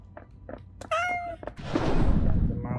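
A cat meows in the video game Goblin Cleanup, giving a couple of short calls and then one clear drawn-out meow, followed by a burst of noisy in-game sound.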